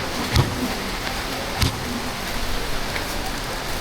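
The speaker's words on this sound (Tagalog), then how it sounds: "Sumilong muna kami dito sa court kasi malakas ang ulan." Heavy rain falls steadily on a covered court, a dense even hiss with a couple of brief low thuds, no talking.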